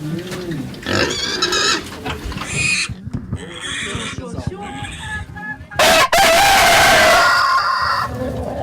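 Pigs squealing and grunting alongside chickens, with a rooster crowing, on a small poultry and pig farm at a boarding house; loud and close, the animal noise shifting and overlapping throughout.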